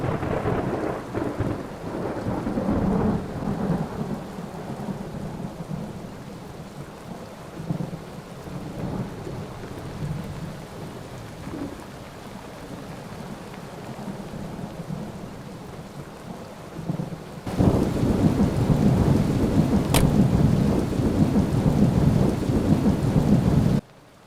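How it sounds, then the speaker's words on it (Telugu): Steady heavy rain falls outdoors during a thunderstorm, with low rumbling thunder rolling underneath. Partway through, the downpour swells louder and denser, continuing without any voices. "బయట వర్షం పడుతుంది కదా"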